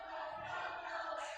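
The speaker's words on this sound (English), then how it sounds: "Listen to this crowd split evenly down the middle." A wrestling crowd at a PPW heavyweight championship match cheers and roars, its support split between the two wrestlers, a steady, distant-sounding wall of voices that swells slightly near the end.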